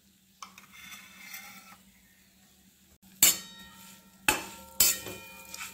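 Chili powder, turmeric and black masala are stirred into hot oil in a pan for a cluster bean curry, with a faint background sizzle and a few sharp spoon clinks against the pan at irregular intervals.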